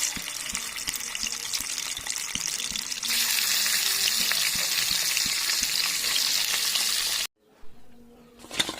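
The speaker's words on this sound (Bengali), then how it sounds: "এবার মাছগুলোকে আমি ভেজে নেব। আমি ছোট কড়াইটা করে ভেজে নেব।" Bhetki fish frying in hot oil in a small wok, a steady loud sizzle that intensifies after a few seconds, then drops out abruptly near the end before faint sizzling returns.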